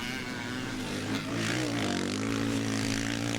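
Several old BSA-derived four-stroke CCM scrambles motorcycles, among them Alan Clues machines, race a lap at a classic nostalgia scramble meeting, engines droning loudly and continuously with rising and falling pitch as the bikes accelerate.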